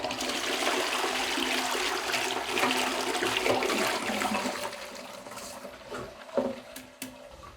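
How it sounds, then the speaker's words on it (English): A toilet bowl being cleaned with CLR flushes, water rushing and gurgling continuously before trailing off into trickles and drips, with no voices. "I'll flush it again."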